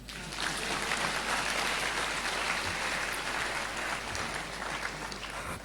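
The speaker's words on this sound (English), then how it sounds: "This is the part where you clap your hand." Applause rises from the audience at a university congregation ceremony, a steady, dense patter of many hands heard from a distance that holds evenly throughout with a low background hum.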